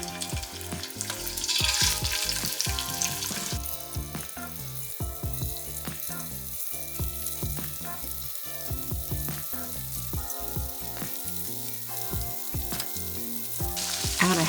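Shrimp hitting rippling oil in a nonstick skillet or wok over medium-high heat, a steady loud sizzle with repeated sharp scraping and stirring clicks throughout, no voices.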